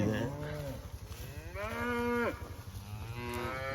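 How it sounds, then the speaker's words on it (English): Cows bawling and mooing in a yard they are grazing, several long drawn-out calls, loud and close, one after another with brief gaps. "as long as they can see us, they're going to bawl"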